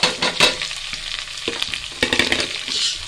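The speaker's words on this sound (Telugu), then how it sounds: "ఆనియన్ మంచిగా ఫ్రై కానీ ఒక 2-3 మినిట్స్ వరకు మంచిగా ఫ్రై కానివ్వండి" Thinly sliced onions frying in oil in a pan while being stirred, a close, bright sizzle with irregular scraping bursts of spatula on metal.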